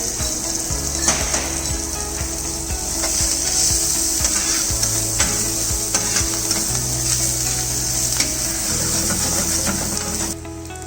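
Sliced onions and chopped chilies fry with hing in a hot pan, giving a steady, close sizzle broken by regular scraping stir strokes throughout, with no one speaking.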